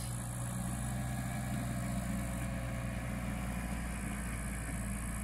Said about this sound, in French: Probablement un tracteur, oui, mais de quelle couleur?